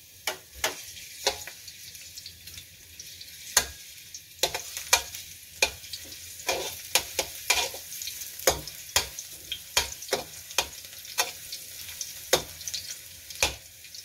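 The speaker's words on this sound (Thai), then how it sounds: "แล้วก็ใส่กระเทียมลงไปเลยค่ะไม่ต้องรอให้น้ำมันร้อนนะคะ" Garlic frying in about two tablespoons of oil for Thai squid fried rice, a light continuous sizzle broken by frequent sharp spatula scrapes and clicks in an irregular rhythm, no voices.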